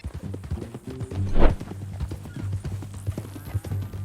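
Horse hooves clip-clop in Red Dead Redemption 2, a steady walking rhythm close by with a louder thump near the middle, under a low musical drone.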